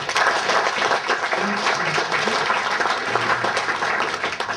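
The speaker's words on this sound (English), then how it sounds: "We could have a round of applause for all of them." Wedding guests applaud in a lively round of clapping, loud and steady for the whole stretch, with a few faint voices mixed into the crowd.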